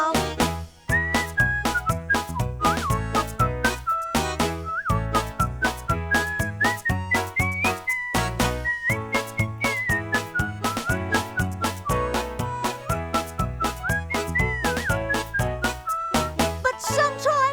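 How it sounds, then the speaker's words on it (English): A melodic whistled line carries through a bouncy, rhythmic song from a 1992 Blinky Bill movie soundtrack, sitting clearly above the steady backing instruments for the whole stretch. "I whistle all my cares away with this little song"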